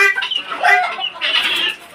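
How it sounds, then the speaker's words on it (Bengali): Laying hens, a mix of Sonali and local desi chickens, cluck and squawk close by in a continuous busy chatter. "আমার মুরগিগুলো মাশাআল্লাহ মোটামুটি ডিম দিচ্ছে।"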